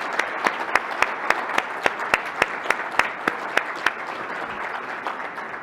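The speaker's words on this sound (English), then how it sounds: "I want everyone to give you a huge round of applause" Applause at a 5G technology conference keynote as the audience recognises honourees, with many hands clapping and a strong, evenly spaced rhythmic clap cutting through for most of the clip before the crowd sound continues unaccented.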